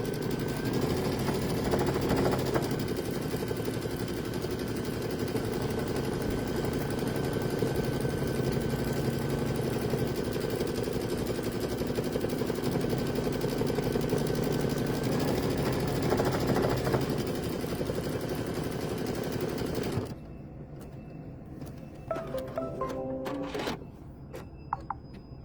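An embroidery machine stitches a satin stitch on fabric with a steady, loud mechanical hum and rapid needle chatter for about twenty seconds, then stops, leaving a few soft clicks and handling noises.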